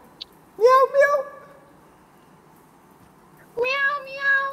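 During a video game, a person imitates a cat with several drawn-out meows, a pair of quick calls followed after a pause by two more, close and clear.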